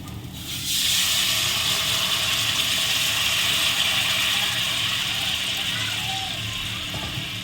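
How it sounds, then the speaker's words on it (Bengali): Hot water poured into spiced masala frying in oil for a catfish curry, setting off a sudden loud hiss of steam and sizzle that holds steady and close for several seconds, under a speaking voice. "এবারে আমি এই যে গরম জল বসিয়েছিলাম গরম জলটা আমি দিয়ে দেবো"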